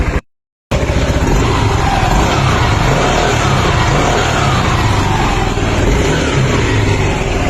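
A Yamaha Smax 155 scooter engine starts on a single press after a brief silence, then runs loud and steady close by, with a dense buzzing mechanical drone throughout.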